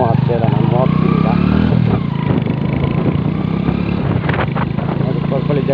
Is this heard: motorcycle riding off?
yes